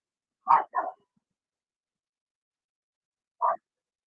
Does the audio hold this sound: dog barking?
yes